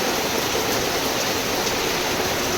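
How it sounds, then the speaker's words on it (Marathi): Heavy rain pours steadily while people pick hyacinth bean pods outdoors, a dense, loud, unbroken hiss with no pauses and no voices. "पाणी पडतं एवढा पाऊस पडतो"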